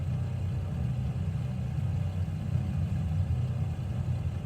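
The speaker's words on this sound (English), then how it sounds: "I love the sounds of this engine. Well, two engines actually." Twin aircraft engines on a FedEx heavy jet in a flight simulator game, a steady deep low rumble droning evenly throughout with no talk over it.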